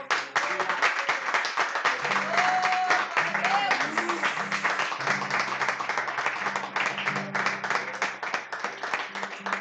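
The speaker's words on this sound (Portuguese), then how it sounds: "Vamos aplaudir o Senhor." A church congregation claps along during a live Portuguese-language worship service, a steady dense patter of hands under sung melody and music that carries on throughout.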